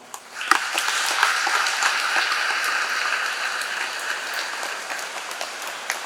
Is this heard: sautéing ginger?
no